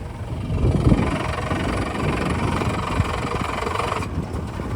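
Small boat outboard engine being started while the boat sits in the water, a rough low rumble that builds and then holds a steady idle, fairly close and loud.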